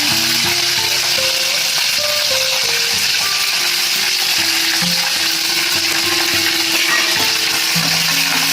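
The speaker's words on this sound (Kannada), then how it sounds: "ಈಗ ಶೇಂಗಾ ಗೋಡಂಬಿ ಎಲ್ಲ ಫ್ರೈ ಆಗಿದೆ ಈಗ ಸ್ವಲ್ಪ ಹಾಕ್ತಾ ಇದ್ದೀನಿ ಆಮೇಲೆ ಈರುಳ್ಳಿ ಹಾಕ್ತಾ ಇದ್ದೀನಿ" Onions sizzle loudly in a pan with fried peanuts and cashews for upma, a dense, continuous frying hiss over faint melodic tones in the background.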